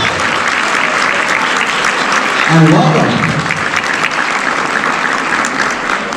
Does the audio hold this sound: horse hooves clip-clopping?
no